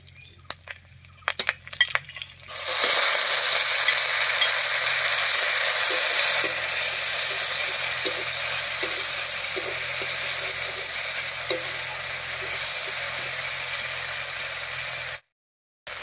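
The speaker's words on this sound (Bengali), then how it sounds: "মশলাটা একটুখানি জল দিয়ে কষিয়ে নিচ্ছি।" Ground spice paste sizzles in hot oil with a little water, along with a slit green chilli and a pinch of radhuni, in a dish of tela kochu leaves. A steady, loud sizzle starts suddenly after a few soft clinks and runs continuously, then cuts off.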